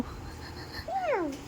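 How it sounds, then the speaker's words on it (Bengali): A cat gives a single short rising-and-falling meow at moderate volume over a quiet indoor background. "বলছে ম্যাও"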